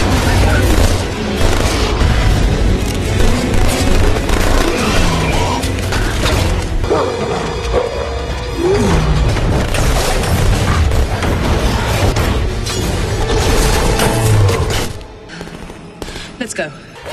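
Film gunfire from silver-bullet weapons aimed at Lycans: a dense, loud barrage of shots and booms with clanking mechanisms runs almost continuously, then cuts off abruptly near the end, leaving a few scattered sounds.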